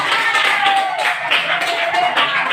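A crowd applauding in a classroom presentation, steady clapping from many hands with a few faint voices mixed in.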